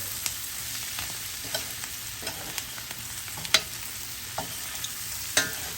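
Bacon and cabbage sizzle quietly in a frying pan under a steady hiss, with scattered soft scrapes and clicks as the mix is stirred, and no talking.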